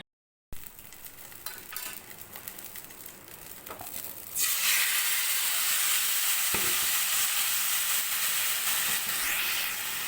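Yogurt-and-spice marinated chicken cooking in a pan without added oil: a soft rustling sizzle at first, then a steady loud broadband hiss of frying that continues to the end.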